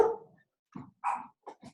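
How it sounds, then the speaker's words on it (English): A dog gives several short, sharp barks and yips indoors at close range, spaced out over a couple of seconds with brief pauses between them. "damn dog"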